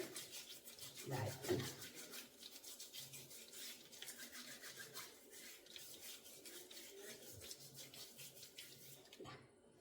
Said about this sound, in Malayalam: നന്നായിട്ട് സ്ക്രബ് ചെയ്ത് കൊടുക്കാം ഭയങ്കരമായിട്ട് അരക്കരുത് കേട്ടോ